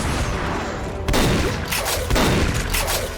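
Rocket Flood weapon fired in the shooter game Pariah, giving a loud, dense burst of blasts with a sharp onset near the one-second mark and another surge around two seconds, all under sustained rumbling noise.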